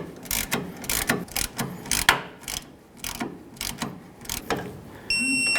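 A ratchet snugs the tie rod sleeve clamps on a 1992–2000 Chevy Tahoe in rapid bursts of close, loud clicking, separated by short pauses.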